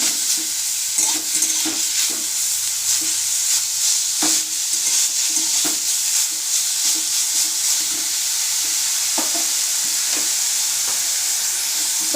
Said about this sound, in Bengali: খুব বেশি ভাজবো না, হালকা করে ভেজে নেব।